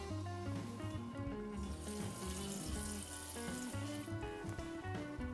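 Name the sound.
water being poured into a cooking pot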